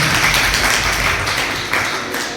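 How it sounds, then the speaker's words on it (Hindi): A school audience at a mathematics quiz breaks into loud, continuous applause, a dense wash of many hands clapping in a hall, sustained without letup. "जोरदार तालियां इनके लिए भी।"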